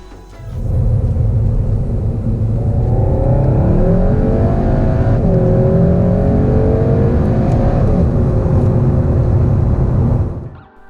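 A 2019 SEAT Leon Cupra accelerates hard through a 30 to 70 mph sprint, its loud engine note climbing steadily in pitch with a brief shift midway before pulling up again, heard alone for about ten seconds.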